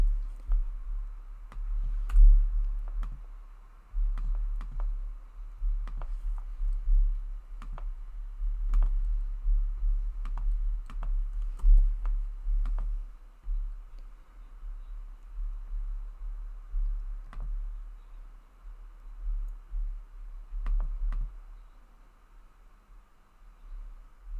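Computer mouse clicks and keyboard typing sound as sparse, faint, close ticks over a low steady hum, scattered irregularly across a quiet room.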